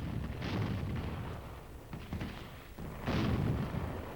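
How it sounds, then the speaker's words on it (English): A howitzer fires on a target, a heavy artillery boom rolling out over a sustained broadband rumble, with a second strong blast near the end; loud and close, no voices. "And so, a howitzer lets one go."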